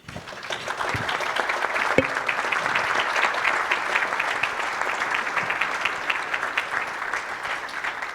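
Steady audience applause at a Coparmex anniversary event in Cancún honoring the organization's founders, dense continuous clapping held at an even level throughout with a couple of faint thumps underneath.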